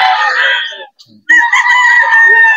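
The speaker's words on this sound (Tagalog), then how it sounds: "yung mga manok ng Boss Rod, mga idol" Chickens and roosters at the Bocaue pet market: a loud crow, a short pause with a faint cluck, then another long, drawn-out crow, all close and unaccompanied by talk.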